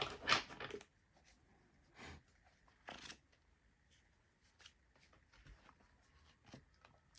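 Tarot cards are shuffled and handled in quick soft riffles and slaps near the start, followed by scattered light taps and rustles against a quiet room.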